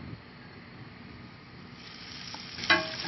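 Fingerling potatoes fry in olive oil and butter with a soft, steady sizzle that grows a little louder toward the end and is topped by a brief crackle; no talking.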